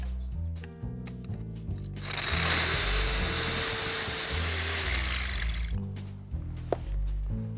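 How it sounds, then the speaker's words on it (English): A power drill whirs for about three seconds, high-pitched and continuous as it bores a hole through a water fountain container, with handling clatter and knocks before and after. "We're going to drill a hole in our container"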